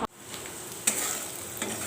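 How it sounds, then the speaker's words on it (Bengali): Finely chopped potato and pointed gourd frying in a pan, a close steady sizzle broken by a few sharp stirring scrapes and clinks. "এখন আলু পটল ভাজা করছি।"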